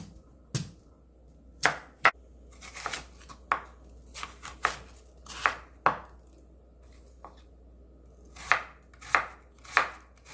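A knife repeatedly chops radish on a cutting board in a kitchen, a series of sharp, close knocks at an uneven pace with short pauses between cuts and no talking.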